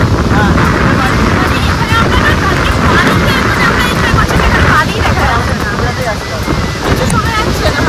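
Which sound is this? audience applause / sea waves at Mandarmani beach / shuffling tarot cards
sea waves at Mandarmani beach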